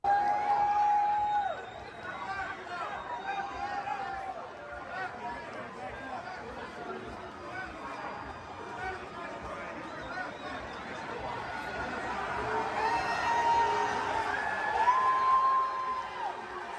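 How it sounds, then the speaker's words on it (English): A football-game crowd reacts to Donald Trump with a fairly distant, continuous roar of booing and chatter, while one woman near the front lets out high, drawn-out woos that rise above the din. "So it sounds like he's getting booed, and then there's one chick right in the front who's screaming, woo, to cancel out the boos"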